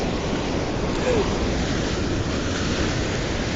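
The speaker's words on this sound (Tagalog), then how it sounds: "grabe ng alon no?" Big ocean waves crash and wash continuously close by while fishing from the shore, a loud steady roar of surf with wind buffeting the microphone.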